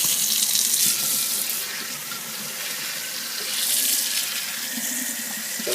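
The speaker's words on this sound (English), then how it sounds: "Fill it full of water, give it a good shake around, drain it off." Tap water pours steadily into a sprouting jar to rinse the sprouts, a loud, continuous hiss and splash that swells slightly as the jar fills.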